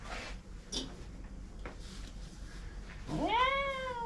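A cat at a grooming salon lets out one loud, rising-and-falling meow near the end, close by, after a quieter stretch of faint shuffling and room noise.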